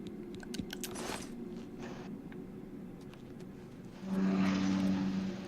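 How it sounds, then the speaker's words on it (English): A steady low rumble of traffic passes in the background, a constant hum that swells slightly louder near the end. "You can hear the cars in the background."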